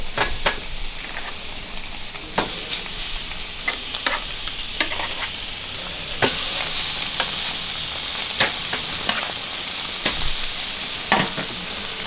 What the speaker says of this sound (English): Like it's just really to sear the outside of it.